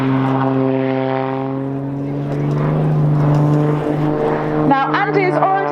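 The propeller engine of a Blades aerobatic aeroplane drones loud and steady at an airshow display. The pitch shifts as the plane manoeuvres, and the engine cuts abruptly near the end. A commentator talks over the sound.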